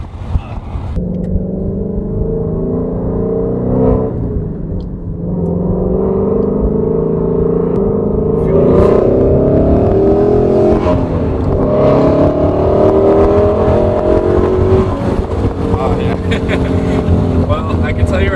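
A Shelby GT350 accelerating hard at full throttle in track mode, its engine note rising steadily in pitch and staying loud and droning for the whole stretch, heard from inside the car.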